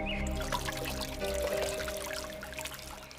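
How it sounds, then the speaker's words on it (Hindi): Water pouring and trickling into a clay pot at the edge of a village pond, a steady close splashing stream lasting a few seconds with a low background hum and no talk. "गांव की सबसे खूबसूरत लड़की मेघा तालाब किनारे मटके से पानी भर रही थी।"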